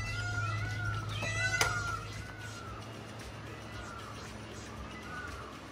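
Several loud, wailing, cat-like calls from a peacock echo over a steady low background hum.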